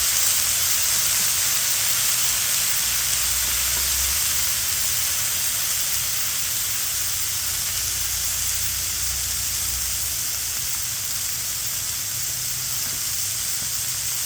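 A steak sears in a hot cast iron pan, giving a steady, loud sizzle and hiss that holds evenly from start to finish with no talking.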